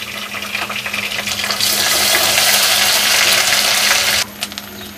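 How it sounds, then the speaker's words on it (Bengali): Water is poured into a hot pan of ground garlic and cumin paste, swelling into a loud, bubbling sizzle for a few seconds before stopping abruptly, followed by a couple of soft knocks. "মশলাগুলো যেন না পড়ে যায় তার জন্য একটু পানি দেব"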